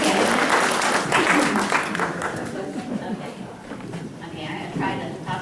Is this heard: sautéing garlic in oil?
no